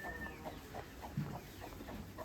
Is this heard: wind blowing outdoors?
no